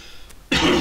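A single short, loud cough from a man with a cough of the last couple of days, abrupt after a quiet pause and alone without talk.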